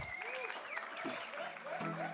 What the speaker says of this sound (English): So can we give a resounding round of applause to our keynote speaker